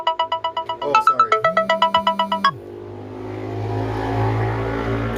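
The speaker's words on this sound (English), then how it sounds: "Sometimes I forget that I have alarms on my phones." A phone alarm rings with a rapid string of bright repeated electronic beeps for about two and a half seconds, then cuts off, leaving a low steady background hum.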